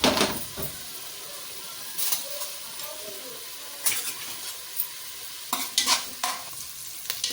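Mustard and other tempering spices sizzle in hot oil for millet khichdi, with a steady frying hiss, close and fairly quiet, broken by several sharp stirring scrapes of a spoon against the pan.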